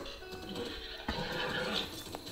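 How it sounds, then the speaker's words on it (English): A horse neighs in the Zelda: Breath of the Wild video game, a game whinny rising over a steady background of in-game ambience and music for a couple of seconds. "we got Zelda's horse"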